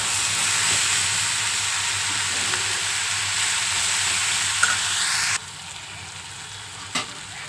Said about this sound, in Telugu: ఇది బాగా వేగుతుందండి.